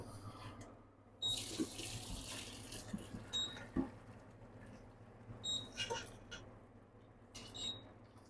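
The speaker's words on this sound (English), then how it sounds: "green beans and broccoli is ready. Just gonna drain it." Water pours off cooked green beans and broccoli into a kitchen sink, a faint splashing gush that swells in irregular surges against a low background hum.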